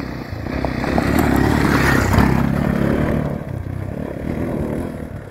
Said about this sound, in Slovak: aj v sériovom prevedení veľmi príjemná zvuková kulisa tejto motorečky